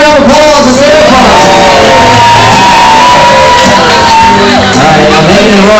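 Wedding guests cheer loudly after the cake cutting, with shouts, whoops and a crowd roar that stays dense and close, mostly masking any clapping.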